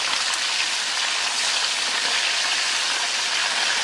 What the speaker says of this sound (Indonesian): Kalau kita goreng sampai nanti matang, jangan lupa bagian bawahnya sudah agak kering, sudah agak kecoklatan.